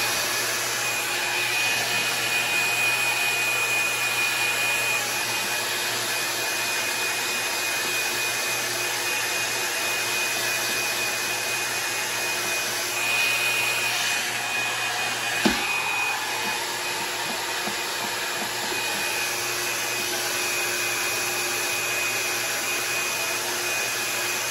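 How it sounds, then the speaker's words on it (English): A hair dryer blows a honey blonde wig dry, with a loud, constant, close roar that holds steady for the whole stretch apart from one brief click partway through. "I'm gonna blow dry it."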